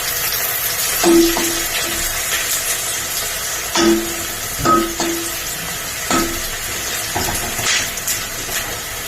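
Green chillies, curry leaves and turmeric fry in a hot pan with a loud, even sizzle, broken by several distinct spoon-against-pan knocks and scrapes spaced a second or two apart.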